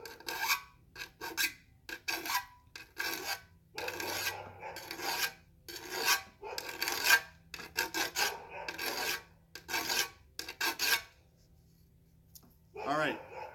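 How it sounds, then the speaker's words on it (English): A flat file rasps along the inside edge of a steel shovel head in steady back-and-forth strokes, close and loud, each stroke a distinct scrape followed by brief pauses near the end. "I'm going to take the flat file on the inside of the shovel head, and I'm going to put it at a 45-degree angle, and I'm going to sharpen it away."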